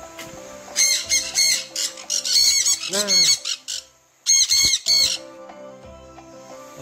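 Birds in an animal enclosure at a hotel and waterpark give repeated loud, harsh squawking calls in bursts, with a brief pause midway, while someone speaks briefly nearby.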